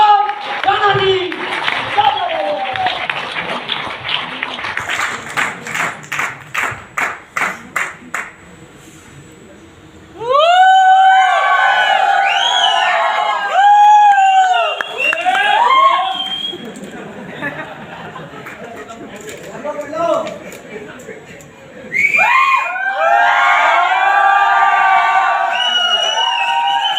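Audience at a motivational wellness leadership event clapping in rhythmic unison, then loud cheering and whoops from the crowd, with a voice talking over stretches of it.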